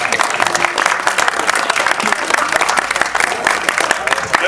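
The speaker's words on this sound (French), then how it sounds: "Et on peut même s'applaudir soi-même." Dense, steady clapping from an audience at a school music party, a full crowd applauding loudly and continuously for several seconds with scattered voices mixed in.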